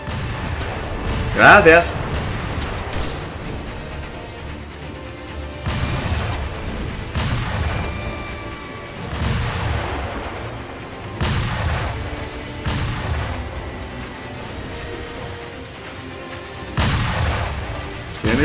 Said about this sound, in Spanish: Siguen disparando, ¿eh?